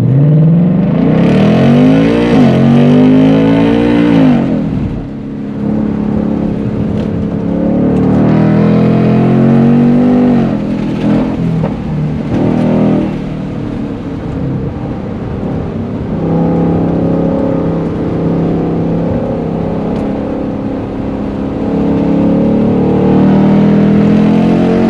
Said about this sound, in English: Bone stock 2024 GT performance package, automatic with MagneRide.